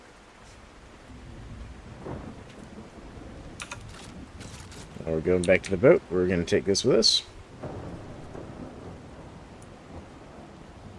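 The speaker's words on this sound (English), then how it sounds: "I do not like how bouncy the boat is getting in this storm." Rain and thunder from a storm in a survival video game, with low rumbling under steady rainfall. Someone talks over it, his voice loudest in the middle.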